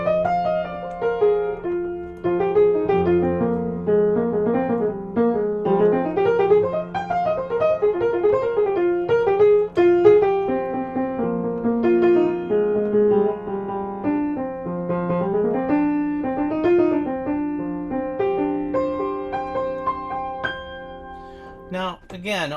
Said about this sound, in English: If I flat the third, I'm going to get the Dorian scale